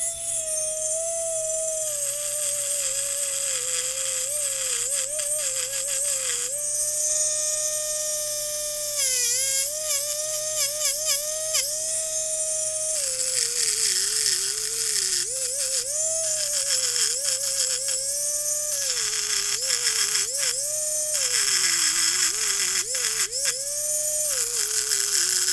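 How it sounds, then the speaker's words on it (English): Grinder cleaning up a Bosch 18V battery, a continuous high whine running throughout whose pitch dips and shifts as the tool loads against the surface. "Let me get my grinder."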